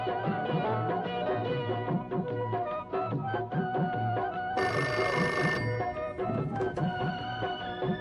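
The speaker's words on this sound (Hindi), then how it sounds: "मैडम आपका टेलीफोन है जी" Telephone bell ringing in an old Pakistani comedy drama scene, a sustained bright metallic ring heard over background music and room noise.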